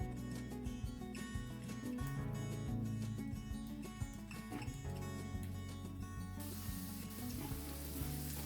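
Onion bhaji pakoras going into hot oil, giving a steady, close sizzle and crackle beneath continuous background music, with no speech.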